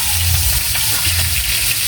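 Galunggong (round scad) frying in hot oil gives a loud, steady sizzle, with faint stirring or spattering underneath and no voices.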